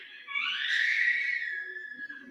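A child play fighting upstairs lets out one sustained, high-pitched scream lasting about two seconds, heard somewhat distant and moderately loud against an otherwise quiet room.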